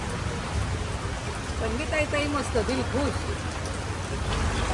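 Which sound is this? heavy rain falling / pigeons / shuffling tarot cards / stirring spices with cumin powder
heavy rain falling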